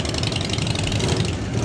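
Harley-Davidson motorcycles rumble past close by in a Fourth of July parade, a dense, loud engine burble with a rapid ratcheting pulse, no voices.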